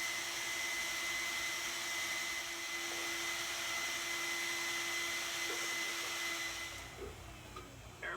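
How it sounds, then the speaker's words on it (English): A vacuum cleaner runs steadily while cleaning out a clothes dryer vent, a loud, constant whining roar with a fixed high tone, close by, easing slightly near the end, with no talking. "I'm going to put the vacuum on down here so it doesn't get too dusty even outside."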